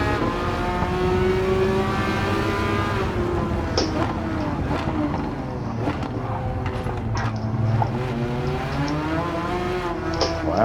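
Engines of race cars in the video game Gran Turismo 7 drone steadily at a moderate level, their pitch rising and falling through gear changes as the cars lap the course.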